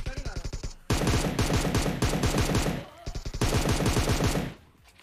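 Automatic gunfire in the video game PUBG Mobile comes in rapid, loud bursts: a short volley, then two long sustained strings of shots separated by a brief pause, fading out at the end.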